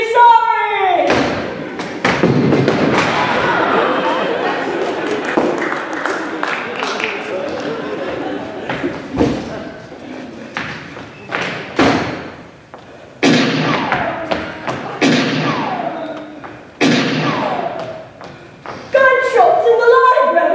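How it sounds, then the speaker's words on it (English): Sharp stage gunshot effects crack out during a school play's library scene, several loud bangs spaced irregularly among shouted, excited dialogue from the actors. "Gunshots in the library!"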